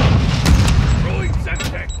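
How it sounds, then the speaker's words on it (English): A grenade explodes in Call of Duty Modern Warfare 2 multiplayer, a heavy close boom rumbling low under gunfire-like crackle and game sound effects, with a voice calling out over it. "Throwing grenade!"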